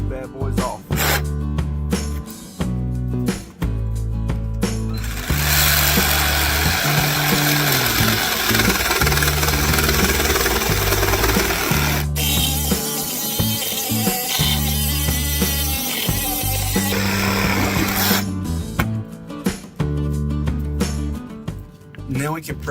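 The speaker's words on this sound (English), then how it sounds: "now we're gonna cut these bad boys off" A power saw cuts through the ends of 4x4 wooden posts during a shed build, a loud, continuous, harsh grinding roar lasting over ten seconds in the middle, set against rhythmic background music with pauses before and after.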